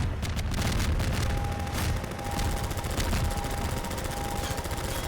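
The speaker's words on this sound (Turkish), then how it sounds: "niye sıkıp duruyorsun bana" Rapid enemy gunfire in the shooter game Half-Life 2, dense bursts of automatic shots crackling loudly and continuously, with a thin electronic tone running underneath.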